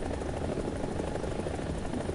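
A helicopter's engine and rotor in the War Thunder video game make a steady, dense droning rumble that holds at an even, fairly loud level throughout, with no talking.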